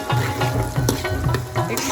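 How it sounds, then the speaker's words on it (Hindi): Onions frying in a pan for beef nihari, a steady close sizzle with soft stirring scrapes running throughout, alone with no talk. "प्याज हमारी गल रही है"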